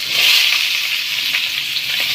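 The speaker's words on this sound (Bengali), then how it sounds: "আলুটা এখন ভেজে নেবো একটু লাল লাল করে।" Potatoes frying in hot oil with spices, a loud, close, continuous hiss and sizzle with no talking.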